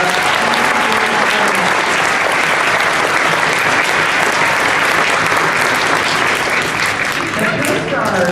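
A school Veterans Day assembly audience claps loudly and steadily for over eight seconds, a dense, continuous wash of many hands with no break.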